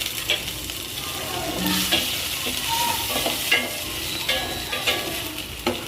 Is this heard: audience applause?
no